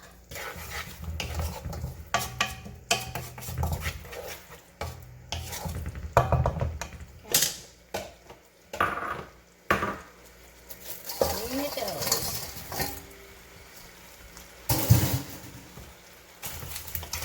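Fried Dungeness crab is tossed and stirred through sauce in a hot pan, with irregular scraping, clattering and sizzling bursts near the mic, interrupted by pauses and a person talking.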